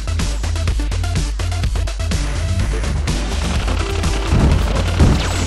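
Gatling gun and missile fire in the video game Hell Yeah!, rapid loud bursts of repeated shots with booming impacts, continuous and close throughout.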